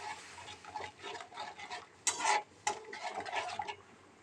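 A spoon scrapes and stirs a poppy seed and cashew paste masala as it sautés in a pan, making soft irregular scraping with a couple of sharper clinks against the metal.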